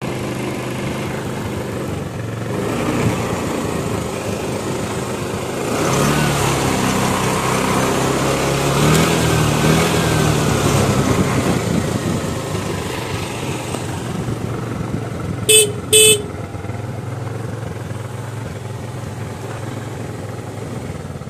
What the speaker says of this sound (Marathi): आत्ता ही गाडी आपण सुरू करूनसुद्धा पाहू की या गाडीची फायरिंग कशी आहे।